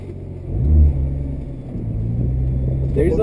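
Nissan GT-R shifted into drive at a racetrack, its engine rumbling low and building steadily as the car pulls away, with a voice speaking briefly over it.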